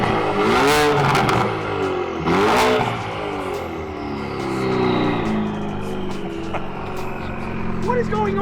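Ford Focus engine running loudly, with two strong revving surges and then a rough, steady drone, heard up close with people talking over it.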